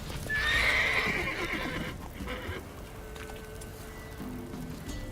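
Roach the horse in The Witcher 3: Wild Hunt gives a loud, close whinny, followed by steady clip-clopping hooves trotting over ground under a continuous game ambience.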